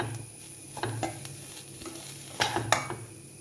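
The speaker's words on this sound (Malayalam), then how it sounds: "ഇനി നമുക്ക് ഇതൊന്ന് വറുത്തെടുക്കാം" Spices dry-roasting and being stirred in a pan for bitter gourd theeyal: a soft, steady sizzle with intermittent scraping strokes of a spoon against the pan, close and fairly quiet, with no talking.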